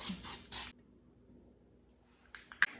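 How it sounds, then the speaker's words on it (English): Three short hissing bursts of baking spray from an aerosol can into a bundt pan close by, then quiet with faint rustling and a couple of small clicks. "I'm just gonna spray it, make sure I get in all the nooks and crannies"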